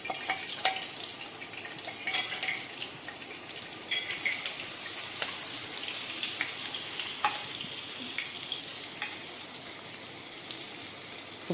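Ginger garlic paste frying in oil in a pan, a soft continuous sizzle with occasional light clinks and stirring scrapes, fairly quiet and close, with no talking over it.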